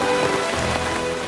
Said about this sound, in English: Battling heavy downpour